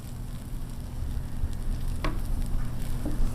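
Egg-in-bread one-eyed jack sizzling steadily in a pan just after being flipped, a continuous close frying hiss with a faint scrape near the middle.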